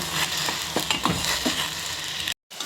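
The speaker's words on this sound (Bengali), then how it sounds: "চিনির শিরাটা ফুটছে, চিনির শিরাটা ফুটে যাক" A pan of boiling sugar syrup bubbles with a steady, hissing sizzle and a few soft pops, cutting briefly to silence near the end.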